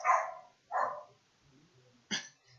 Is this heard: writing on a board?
no